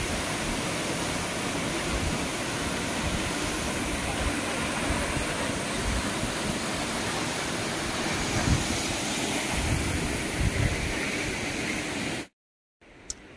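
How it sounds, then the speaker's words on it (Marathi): Ranpat waterfall at Ranpat tunnel, its forceful water pouring in a loud, constant roar with wind stirring nearby trees, continuing for about twelve seconds before cutting abruptly to near silence. "हा माझ्या पाठी आहे तो रानपाटचा धबधबा."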